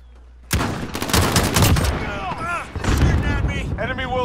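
Dense, loud bursts of gunfire in Call of Duty: Modern Warfare, with rapid shots overlapping almost continuously while voices call out over the fighting.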